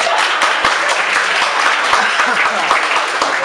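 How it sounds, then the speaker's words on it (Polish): Applause from a quiz-show audience at a Women's Day TV event, dense, steady clapping at close range that holds loud and even throughout with no pauses. "Wielkie brawa!"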